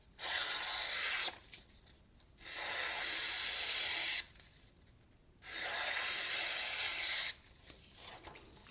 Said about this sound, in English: I'm trying to get a single piece of paper out.